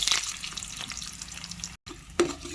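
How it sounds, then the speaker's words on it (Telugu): Onions frying in oil in a kadai, a steady close sizzle with stirring scrapes, a short gap, then a sharper stir toward the end, with no voices. "ఇలా ఉల్లిపాయలు వేసుకొని మంచిగా బాగా బ్రౌన్ కలర్కు వచ్చినంత వరకు సిమ్లో పెట్టి ఇలా ఫ్రై చేసుకోండి"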